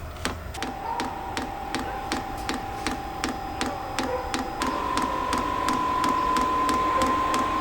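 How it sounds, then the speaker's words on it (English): A diesel heater's fuel pump ticks in a steady, evenly spaced rhythm of sharp clicks over a constant hum, with the pitch of the hum stepping up partway through as the pumping continues close by. "Fuel pump is pumping faster, and it's really cranking out now"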